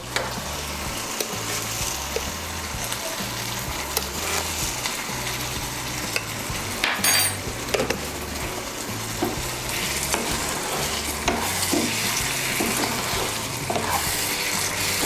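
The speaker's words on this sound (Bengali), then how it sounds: "মিশিয়ে নিয়ে আর একটু আমি আলু আর মটরশুঁটিগুলো কষিয়ে নেব" New potatoes and green peas sautéing in a pan with slit green chillies and a little sugar, a steady sizzle broken by frequent scrapes and stirs of a spatula, close and fairly loud throughout with no talking.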